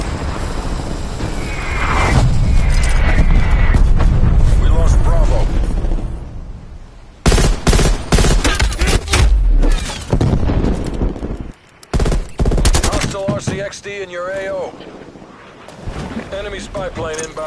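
Heavy artillery explosions and rapid gunfire in a console military shooter video game, loud dense booms and bursts with a calm radio-style voice giving battlefield callouts over the din.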